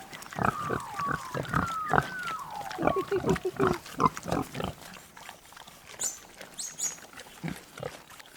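Free-range homestead pigs grunting and squealing close by, a run of short repeated oinks with rising and falling squeals, then softer snorts; a person speaks quietly at times.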